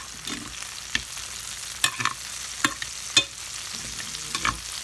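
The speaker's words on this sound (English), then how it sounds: "I do want it to fry and not saute" Onions frying in a pan over medium-high heat, a soft steady sizzle broken by several sharp scrapes and clacks of stirring, close and without talk.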